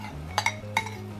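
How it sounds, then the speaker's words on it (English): A utensil scrapes and clinks against a pan while drunken noodles are stirred through sauce, giving a few sharp metallic taps close by over a low background hum. "Stir it around a bit, get some of that sauce on every little bit of that stuff."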